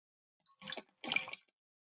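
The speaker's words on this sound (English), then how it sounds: "Hold on, sip of water." Two short wet slurping sips of water taken close to the microphone, quiet, with silence before and after.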